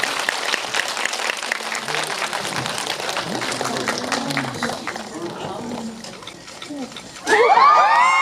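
A cinema audience at a Korean film screening event claps for the departing director and actors, steady applause mixed with shouts and cheers, fading a little before a sudden loud burst of high excited screaming at the end.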